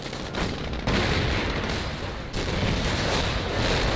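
Tank guns fire and shells explode in Company of Heroes combat, heard as dense, rumbling battle noise with two sharp surges of heavy blasts over a few seconds, loud and continuous.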